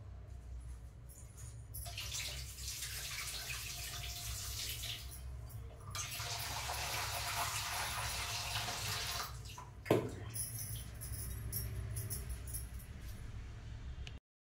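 Small groundnuts are washed in water to rinse out sand, with a steady rush of running, splashing water, a sharp knock near the middle, and then more sloshing.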